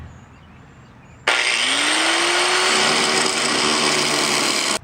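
An angle grinder or similar power tool cuts through a bent bolt on a truck's saddle and chain setup, throwing sparks. It starts abruptly with a loud, steady, high-pitched grinding whine that holds for several seconds after a faint lead-in.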